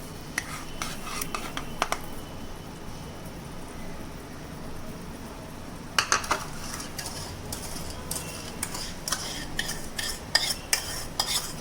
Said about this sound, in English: Okay, now let's mix it fast. So you should keep on stirring it.